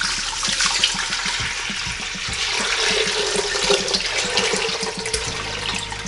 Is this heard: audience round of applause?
no